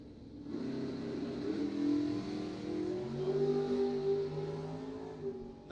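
A big block Chevy-powered 2012 American rear-engine dragster and a 1967 Camaro roar down a drag strip, engines revving loud and steady with rising, sustained growl throughout, no talk.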